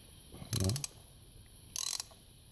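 A socket ratchet clicks in two quick bursts while tightening a spark plug on a Jeep Patriot 2.4 engine, with close, loud ratcheting separated by a short pause.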